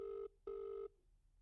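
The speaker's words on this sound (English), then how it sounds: "It's ringing." A telephone rings twice on an outgoing call: two clear, steady electronic ring bursts separated by a short gap, close and alone with no talking.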